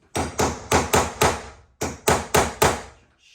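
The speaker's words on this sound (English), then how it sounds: "I'm going to keep banging on it and see if I can't extract it" A hammer bangs on a stuck screw in two close, loud bursts of sharp metallic blows, five strikes then four, each ringing briefly before the next, with no talk.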